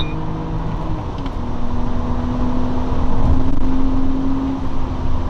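A BMW 6-speed hatchback pulls hard in second gear from 3,000 RPM, its engine drone climbing steadily in pitch over road and wind rumble heard from inside the car.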